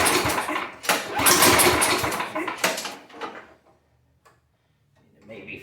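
A salvaged curbside snow blower engine fires up right away and runs roughly for about three seconds with loud, dense sputtering, then cuts out into near silence followed by a faint clatter.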